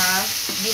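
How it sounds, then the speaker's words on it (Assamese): Tomatoes and garlic fry in hot oil to make a spice paste, giving a brief, bright, steady sizzle close up, with a faint stirring scrape partway through. "বিলাহী আৰু তাৰ পিছতকে নহৰু দি ভাজি লৈছে মছলা বনাবলৈ"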